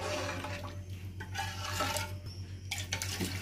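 Water is poured into a large cooking pot for beef khichda with wheat, a continuous splashing pour over a low steady hum, with no talk.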